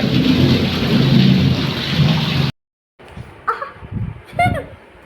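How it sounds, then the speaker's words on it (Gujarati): A heavy thunderstorm pours rain in Morbi with a dense, loud roar of rain and thunder for a couple of seconds; after a brief gap, quieter scattered knocks and thuds follow. "જોઈ લ્યો તમે વીજળીના કડાકાન ભડાકાન જોરદારનો"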